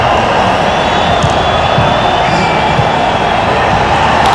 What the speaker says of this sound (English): Crowd enjoying the football that they're witnessing